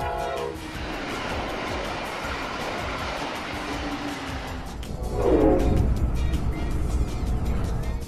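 A passenger train at Miami Central station rumbles with a broad steady roar, then a louder surge of passing rail noise swells in the second half, no voices present.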